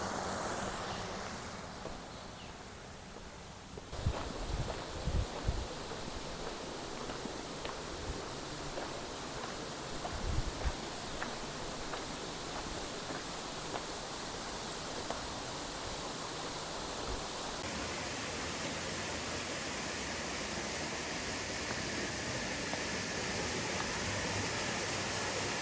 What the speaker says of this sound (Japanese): 普通に沢の音だったかもしれない